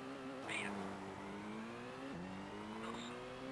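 A Subaru rally car engine in a PC racing game on Windows ME drones and revs in rising pitch sweeps with a gear-change drop midway, a steady synthetic engine tone at moderate level with faint effects on top.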